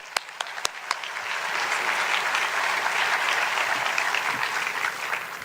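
Audience applause welcoming host Dave Karger at the Santa Barbara International Film Festival Virtuosos Award event, opening with a few sharp claps that swell into steady, full clapping from a large crowd, sustained throughout.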